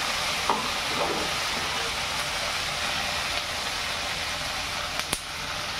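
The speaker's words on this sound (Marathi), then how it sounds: "ते असं परतून घेऊ।" Paneer chilli stir-frying in a pan with soy sauce, giving a steady close-up sizzling hiss broken by a few sharp spatula clicks and scrapes.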